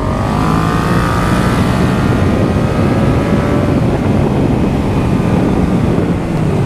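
A 2018 Yamaha MT-07 motorcycle engine on the move, a continuous loud engine drone with falling pitch as it downshifts, heavy wind rush over the microphone throughout.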